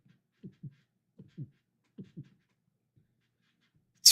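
A slow heartbeat: three pairs of soft, low lub-dub thumps evenly spaced, then a long pause, a faint beat and a sharp click at the very end, with no talking.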